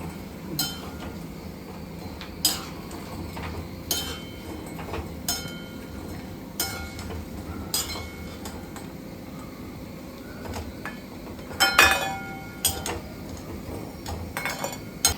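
Clinks of a dish and utensils as fried gulab jamun made from a Gits mix are slipped into sugar syrup in a home kitchen, with scattered sharp taps and a louder cluster of clatter near the end over a steady background hum.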